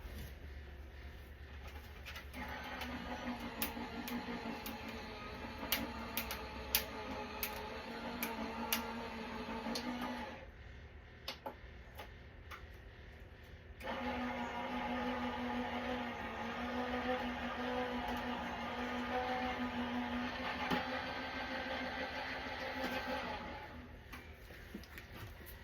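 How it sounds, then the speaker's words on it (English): A die cutting machine runs steadily for a craft layout, a continuous mechanical hum with ticking clicks, pausing briefly midway before resuming at similar strength, close and alone without talk. "I'm going to run it through my die cutting machine"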